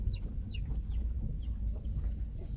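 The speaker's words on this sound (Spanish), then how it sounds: "cuidado con la gallina" Chicken clucking beside a small road in a rural village during a driving lesson, several short high calls scattered over a steady low rumble of a car engine and wind.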